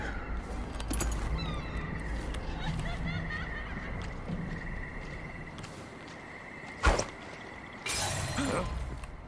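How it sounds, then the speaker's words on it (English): Glass shatters in the stealth video game Dishonored: Death of the Outsider, a sharp crash and then a spray of tinkling breakage near the end. Steady low ambient game noise runs beneath it throughout. "That sounded like broken glass."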